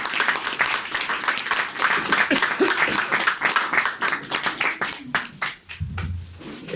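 Applause from the audience at a poetry gathering at La Esquina Rosada, honoring the poet Alejandro: dense, steady clapping that fills most of the stretch with a few voices mixed in, then thins and fades toward the end.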